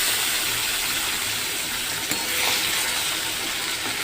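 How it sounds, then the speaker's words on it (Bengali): Bata fish fry in mustard oil in a wok, giving a steady, dense sizzle with a watery gush quality that holds evenly throughout and is close and fairly loud, with no talking. "সর্ষের তেলে বাটা মাছগুলো ভাজা চলছে।"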